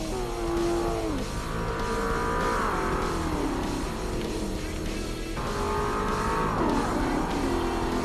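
A Class S race car in Forza Motorsport endurance racing screams through its gears, the engine pitch climbing and dropping with shifts and braking, loud and continuous with a brief tire squeal.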